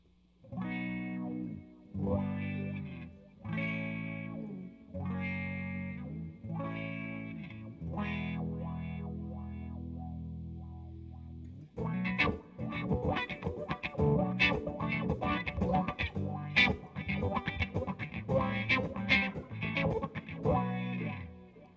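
Electric guitar played through a wah pedal, the tenth unit in a comparison. A clean, repeated chord figure with a long sustained note is followed by denser distorted strumming, close and alone.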